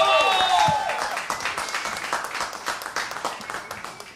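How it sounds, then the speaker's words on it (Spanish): Applause from a comedy show audience, a dense patter of clapping that starts loud and tapers slightly over a few seconds, with voices mixed in. "Vamos a darle un fuerte aplauso una vez más al señor David Comedia."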